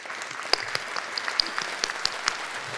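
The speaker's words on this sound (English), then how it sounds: "could we give them another round of applause" Applause at a commencement ceremony: a crowd claps steadily with scattered sharper, louder claps standing out, moderately distant and without voices.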